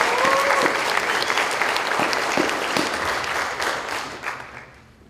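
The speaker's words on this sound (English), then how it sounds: "Let's give those students a round of applause." An audience at a high school band concert applauds the students, with dense, sustained clapping that fills the room and then tapers off toward the end.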